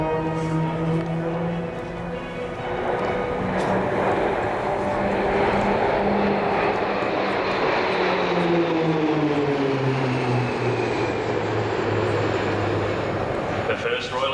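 Propeller aircraft of the RAAF Roulettes aerobatic team fly over in formation at the Avalon air show, a loud droning engine roar whose pitch slides downward as the planes pass.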